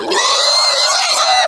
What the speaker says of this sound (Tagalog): Yun o, may baboy na.